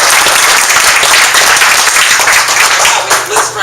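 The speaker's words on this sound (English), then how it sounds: "Give T-Bird a big round of applause." An audience at a Modesto Central Valley launch event applauds, with dense, sustained clapping that fills the room loudly and evenly before tapering slightly at the end.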